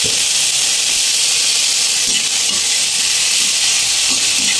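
Shrimp sizzle loudly in a hot pan while being stirred, a constant close hiss of frying with faint scraping strokes beneath it.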